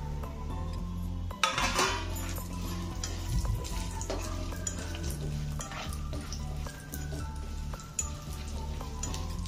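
Almonds and chopped cashews dry-roast in a pan, with a continuous close rattle and clinking of nuts being stirred against the metal, plus a few sharper knocks.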